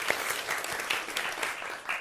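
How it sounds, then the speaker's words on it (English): Audience applause at a live comedy show at a comedy festival, a moderate crowd clapping steadily with some individual claps standing out, heard fairly quietly without talk. "let's give him a round of applause."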